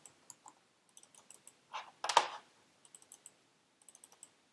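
Computer keyboard keys pressed during InDesign work, a scattered series of light, crisp clicks near the microphone with a louder burst of clatter in the middle, no talking.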